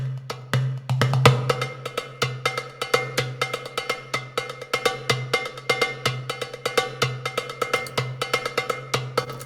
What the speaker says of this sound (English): mostly this is the Doombeck